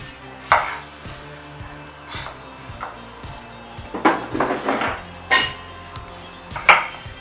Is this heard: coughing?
no